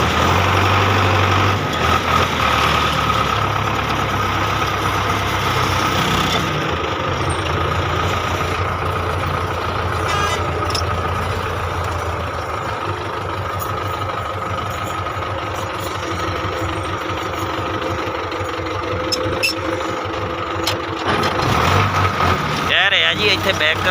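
Two tractors idle beside a sugarcane trolley, their engines a steady, heavy rumble with a higher mechanical whine, running under people talking throughout.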